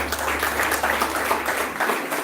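A conference audience applauds steadily, a dense wash of many hands clapping close and fairly loud throughout the brief moment.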